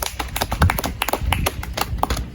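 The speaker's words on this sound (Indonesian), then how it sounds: "silakan tepuk tangan untuk kedua kelompoknya" Classroom students clapping for two presentation groups, a scattered, uneven burst of hand claps from a nearby group lasting a couple of seconds without talk.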